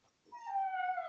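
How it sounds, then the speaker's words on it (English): A dog whimpers and yips in the background of a council meeting, one drawn-out high whining call rising and holding for under a second, fairly faint and with no talk over it. "I'm loving that dog sound in the background. Oh, it's a dog."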